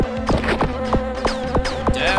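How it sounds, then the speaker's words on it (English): Insect-like buzzing of killer bees in the video game Jazz Jackrabbit Doom, a loud, steady electronic drone cut by a quick run of sharp rhythmic clicks or hits. "These are some nasty bees."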